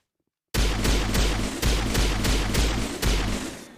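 In the video game Vanguard, a gun fires in loud rapid bursts after a brief silence, with about four rhythmic clusters of sharp, close shots and no talking.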